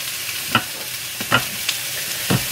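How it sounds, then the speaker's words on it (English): Steady sizzle of meatballs frying in a pan fills the background, broken by a few soft clinks and scrapes of stirring. "I have to excuse the sizzling noise in the background,"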